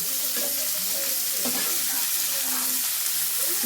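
Mixed vegetables with grated ginger frying in oil while being stirred, a continuous bright sizzle with scraping stir movements close by and no voices.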